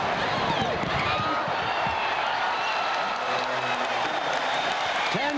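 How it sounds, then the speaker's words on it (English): Basketball arena crowd at an NBA game on the home court, a dense, steady roar of cheering and applause throughout, loud and continuous with a play-by-play commentator talking over it. "Listen to the crowd"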